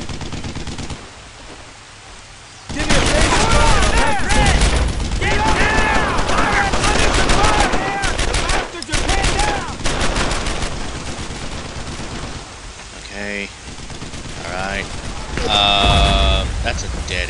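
Dense automatic gunfire and suppressing fire in the World War II shooter Brothers in Arms: Earned in Blood, a loud continuous barrage of rapid shots with shouting voices mixed in.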